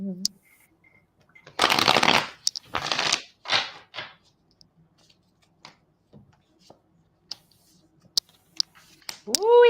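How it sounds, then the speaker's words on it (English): Playing cards shuffled for a tarot-style reading, a few bursts of riffling and bridging a second or so each, close and crisp, then quiet with small taps and a brief voice at the end. "Bob, I'm wanting to pull some cards for you right away."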